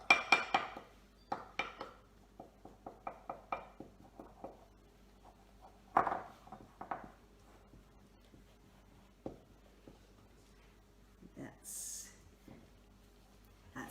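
Cornstarch slime being mixed in a bowl at a kids' craft session: close, irregular clinks and scrapes of a utensil against the bowl, busier at first, then sparser taps with a brief hissy rustle near the end.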